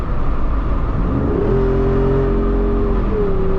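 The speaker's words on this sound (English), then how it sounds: "But the engine is still really loud, right? You still have a loud engine, and the exhaust is still back there" A 2024 Jeep Wrangler Rubicon 392 with its HEMI V8 roars loudly and steadily, the revving engine and exhaust droning close by with a rising then held pitch, and nobody speaking.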